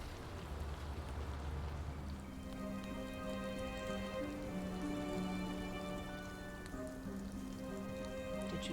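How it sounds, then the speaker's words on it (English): Steady rain falls on surfaces in the Nancy Drew: Midnight in Salem video game, a constant close patter with scattered drips and faint tonal game ambience layered underneath, no talking. "It's a raining."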